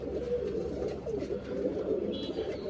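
Pigeons coo steadily in a low, rolling murmur, several birds overlapping continuously at close range with no talking.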